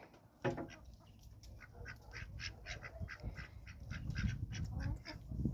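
Several ducks quack in a busy, repeated chorus, fairly near, with low rustling and movement underneath, growing slightly louder toward the end.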